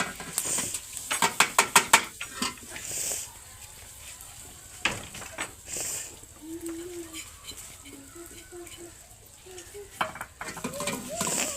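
Soaked moong dal is tipped into browned masala, bringing a burst of clattering and rattling followed by a softer sizzle and occasional spoon knocks against the pot, with birds chirping faintly in the background.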